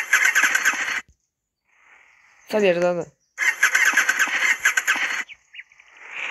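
A tractor engine in a video game starts up, revving in two loud bursts separated by a gap filled with a brief voice, then a softer idle rumble resumes at the end.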